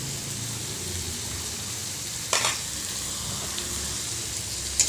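Ginger paste sizzling in a hot oiled pan, a steady close fry with a couple of brief sharper crackles midway and near the end, no talk.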